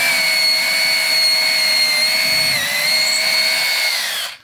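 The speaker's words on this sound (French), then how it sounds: "Et on perce en diagonale." A power drill with a 5 mm bit boring diagonally into wood while a chicken coop is built, a loud close steady whine lasting several seconds before winding down at the end.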